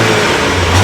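A loud, close rev from a 2018 Audi A5 Sportback S line engine, a short steady blast of engine roar with no voices over it.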